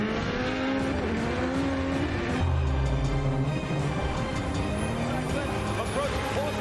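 Drift cars slide through the final clipping point of a Formula Drift Long Beach Top 32 round, engines howling and tires screeching with rising and falling pitch, loud under continuous excited commentary.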